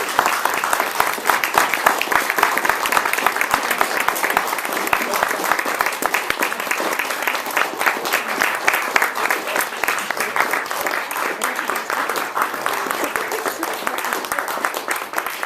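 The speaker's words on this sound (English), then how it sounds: "I think we need to give the biggest round of applause" An audience at an award celebration banquet applauds, with dense, continuous clapping from many hands that stays loud and even for a long stretch.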